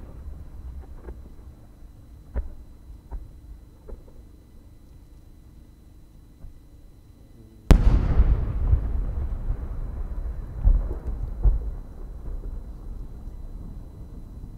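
Faint distant pops and crackles give way to a sudden deep boom of chrysanthemum firework shells bursting at the Omagari fireworks competition in Akita, Japan, followed by a long rumbling, crackling tail with scattered further bursts.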